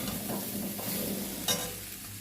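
Potatoes fry in a pan with a soft continuous sizzle and one brief scrape of a utensil partway through, fairly quiet and near.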